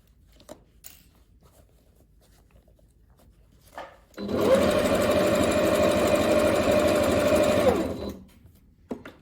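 A sewing machine runs in one continuous burst of about four seconds, stitching elastic shirred waist fabric for a pant, its rapid mechanical hum loud and close after a quiet start, then stopping abruptly.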